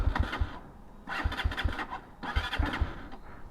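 A Sinnis GPX sportbike's engine cranks and turns over in repeated bursts, with uneven mechanical chugging and whirring separated by short pauses, loud and close with no talking.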